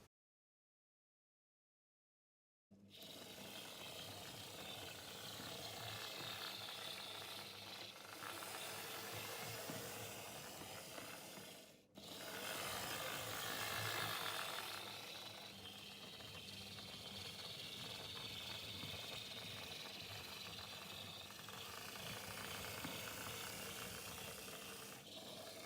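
An old Jouef model shunting locomotive runs on a test track after its motor was reworked, making a steady whirring, buzzing mechanical drone that continues alone for over twenty seconds, with one brief dip in the middle.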